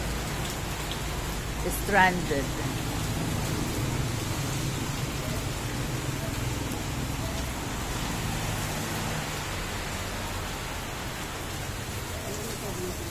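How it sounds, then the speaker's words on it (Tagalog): Heavy rain pours steadily in Binangonan, a dense continuous hiss of drops on surfaces with a faint low rumble underneath, while a voice speaks briefly near the start. "Super lakas ng ulan."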